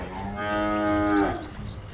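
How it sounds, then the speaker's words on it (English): A cow-moo taunt from a competitive esports match between Geekfam and Fnatic rings out as one loud, drawn-out moo lasting about a second, alone with no talking. "Good to see both teams mooing their hearts out as well."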